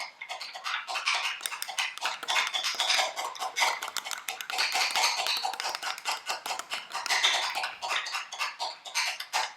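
Homemade aioli with mustard being stirred steadily in a bowl, a continuous busy scraping and clicking of utensil against the dish for the whole stretch, close and fairly loud with no talking.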